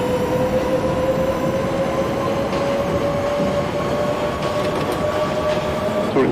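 NYC Subway B train in the OpenBVE train simulator game, running from 168 St to Coney Island: a loud, steady rumble of rolling wheels with a sustained motor whine, faint clicks near the end.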